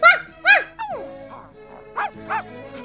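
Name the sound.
voice imitating a barking dog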